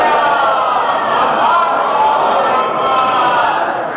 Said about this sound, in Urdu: صلوات پڑھیں محمد وآلہ